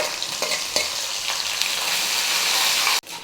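Dal and green chillies are stir-fried in a pan: a loud, continuous sizzle with a few spatula strokes, cutting off abruptly just before the end, with no voices.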